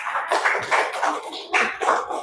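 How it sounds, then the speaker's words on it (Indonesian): Classroom of students clapping for a classmate, a short burst of close, dense applause with uneven bursts of hand claps. "tepuk tangan untuk Bagus"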